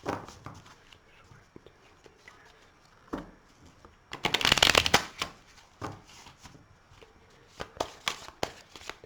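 Tarot cards from the major arcana and mirror oracle cards being shuffled by hand, soft riffling and sliding with a loud, dense burst midway and scattered flicks before and after.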